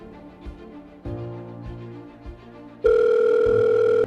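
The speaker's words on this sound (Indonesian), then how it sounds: "Coba telepon Adit aja deh." A telephone on an outgoing call, with a series of low ringback pulses giving way to a loud steady tone near the end, all heard alone without talk.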